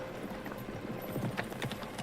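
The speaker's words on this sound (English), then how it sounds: "I began to hear the horse's hooves through his ears" Horse hooves clip-clop in a steady, quick rhythm at moderate distance within a muffled, dusty-sounding mix, with no voices.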